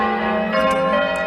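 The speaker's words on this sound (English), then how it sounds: "Can you do that on the bells, or is it just sound like this all the time?" Church bells ring loudly in a sustained, overlapping wash of resonant tones with no pauses.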